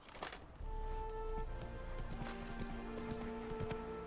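Roach, Geralt's horse in The Witcher 3, trotting along with a steady clip-clop of hooves close by, backed by a low in-game ambient bed and no talk over it.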